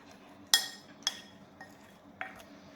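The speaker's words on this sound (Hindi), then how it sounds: "इसको भी हम एक स्पून लेकर के और इसको भी सबको इंग्रेडिएंट्स को हम अच्छे से मिक्स कर लेंगे" A spoon stirs baking powder, baking soda and cinnamon in a bowl for a whole wheat banana walnut cake, giving a few quiet, sharp clinks spaced apart, with no talking.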